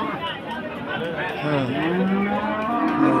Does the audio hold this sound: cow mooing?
yes